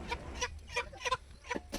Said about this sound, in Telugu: కొంతమంది అయితే అమ్మవారికి మొక్కుకొని ఇలా కోడిని కోస్తారు